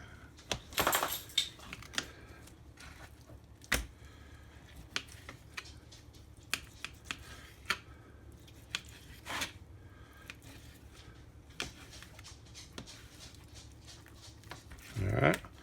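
A knife cuts a raw chicken breast into roughly one-inch chunks for pan frying, giving faint scattered taps and clicks on a board, some spaced apart and some in quick runs, against a quiet room.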